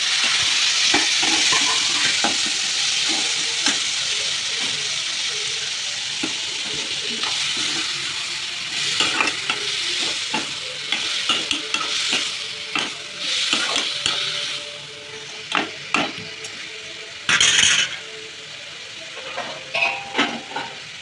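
Tomatoes sautéing over already-softened onions for thakkali thokku make a bright, constant sizzle up close. Spatula scrapes and taps come more often and more sharply in the second half.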